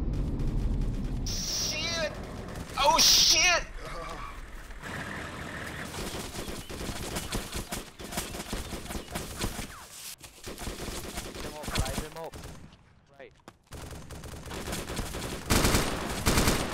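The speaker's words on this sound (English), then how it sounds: "Charlie's moving up their Humvee, they have the 50 cal going" Bursts of heavy .50 caliber machine gun fire from a Humvee-mounted gun, rattling intermittently at moderate distance amid radio chatter and other battlefield noise, with voices talking over it.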